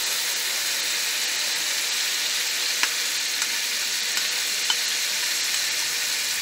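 Yogurt paste hits frying potatoes in a hot pan, producing a steady, loud, hissing sizzle that holds throughout, with a few tiny pops and no talk.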